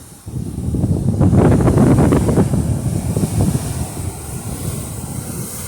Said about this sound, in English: these are just little squall waves coming off from that rain out there